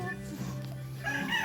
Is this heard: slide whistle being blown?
no